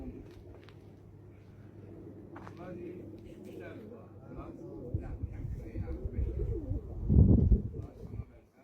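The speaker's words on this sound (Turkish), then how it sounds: "Bunlar uçan quşlardır." Pigeons cooing in low, throaty calls close by, under people talking, with the sound swelling louder toward the end.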